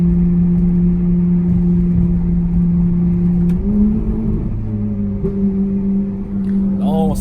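A Ferrari supercar drives with a loud, steady engine drone heard close up. The tone steps up in pitch midway as the car accelerates.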